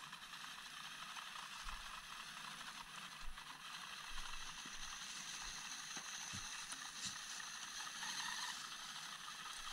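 An Axial SCX24 brushed RC crawler on a 3S LiPo gives off a thin, steady whine and faint mechanical rattle, with occasional ticks and knocks as it climbs under careful throttle.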